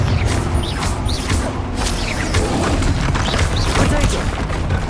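Confringo blasting spell in the Hogwarts Legacy video game, repeated fiery bursts and crackling impacts in a continuous loud battle din, with a voice calling out over the clash.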